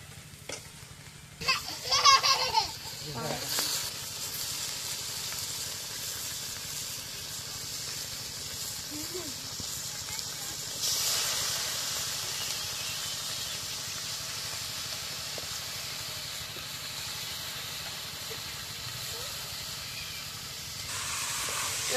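Meat going into hot oil with cooked-down spices in a pan gives a steady broadband sizzle and hiss that swells after the first seconds and stays fairly loud, with a few brief clatters and no talk.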